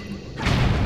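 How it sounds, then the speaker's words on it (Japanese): A bomb flower explodes in Zelda: The Wind Waker HD, a single muffled boom that swells midway and rumbles on in the game soundscape. "この壺を使って爆弾バナを割ってあげます"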